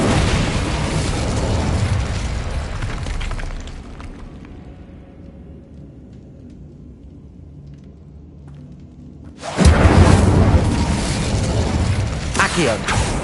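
Incendio fire spell blast in Hogwarts Legacy: a loud roaring burst that fades into a quieter rumbling lull, then a second powerful blast erupts and sustains, dense and close.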